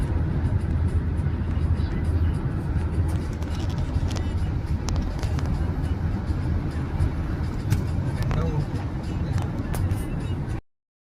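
Steady engine and road rumble from inside a car travelling at night toward Arunachalam, continuous and fairly loud for about ten seconds before cutting off abruptly.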